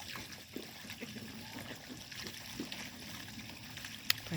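Water trickles into a container on a farm homestead, a faint steady flow with small splashes and a sharper clink near the end, no talking.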